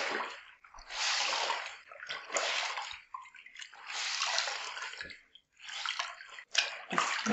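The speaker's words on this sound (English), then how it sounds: "I'm just gonna dip it in the water and rinse it out." White towels are dipped and rinsed by hand in a tub of water, giving continuous close sloshing and splashing in repeated waves with short pauses.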